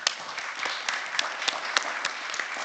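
Audience clapping at a civil society forum of the GEF Eighth Assembly, steady dense applause throughout with a few louder individual claps standing out nearby.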